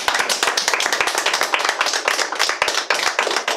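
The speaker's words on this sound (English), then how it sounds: "let's give it a round of applause again" A small group applauds for the season finale of a web show, with close, distinct hand claps landing in a quick, fairly regular rhythm, loud and unbroken by talk throughout.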